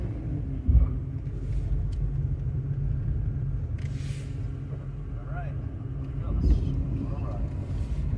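A car engine rumbles low and steady while driving through city streets, a continuous drone with a couple of brief thumps along the way and faint voices in the background.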